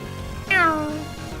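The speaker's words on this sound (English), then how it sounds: "Yeah, kitty. I'm sorry. I'm busy." A cat gives one clear, close meow that rises and falls, standing out over steady background noise and a low rhythmic hum.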